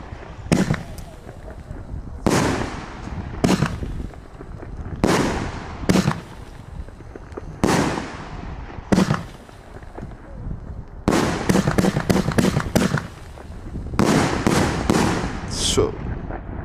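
Fireworks and firecrackers go off in Germany, a whole van's worth, with sharp bangs and crackling bursts coming in irregular clusters and rapid volleys at close to mid distance, while voices are heard in between.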